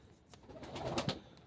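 A single pigeon coos softly and close by, a short low warbling call rising and falling over about a second.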